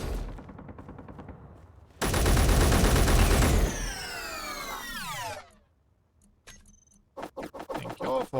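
Video game gunfire in a lone survivor underground shooter: a sustained loud burst of rapid automatic shots, then a falling sweep and a pause before several sharp separate bursts near the end, with no talking.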